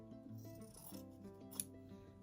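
Scissors snip through the fabric of a patchwork vest, a few quiet cuts heard up close over a low, steady background hum, with no talking.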